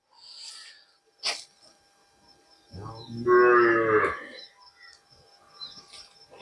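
A household cow moos once, loud and close, a sustained low call in a quiet rural setting, with a brief knock and faint scattered sounds before and after.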